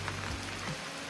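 Steady rain falling outdoors on the way to a track in Goa, a dense close hiss of drops on surfaces with low rumble underneath and no talk.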